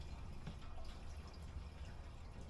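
Fuel poured by hand, without a funnel, into the tank of a Petter A1 vintage stationary engine, a steady, soft liquid trickle with faint dripping and splashing, close and continuous for a couple of seconds.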